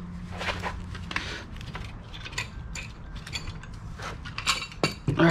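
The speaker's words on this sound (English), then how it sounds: "Go ahead and remove this clamp." A clamp on an International Harvester truck axle is removed with a series of close metallic clicks, ratcheting and creaks, with short bursts of rattling and no voices.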